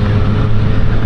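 A 2020 Triumph Street Triple 765RS motorcycle engine hums steadily while riding, a loud continuous low drone mixed with wind rush, with no talking.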